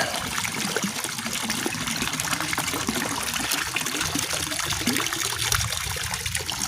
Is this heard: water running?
yes